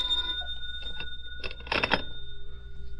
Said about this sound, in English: It was about 4 in the afternoon when the phone rang.